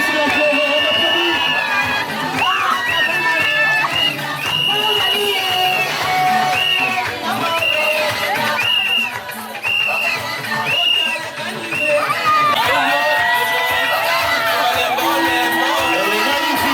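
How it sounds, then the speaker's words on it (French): Guests at a customary wedding in Gabon cheer loudly, whooping and calling out in a lively, sustained crowd noise. Voices talk through it, and there is a brief dip near the middle. "on applaudit très très fort comme si on pleuvait"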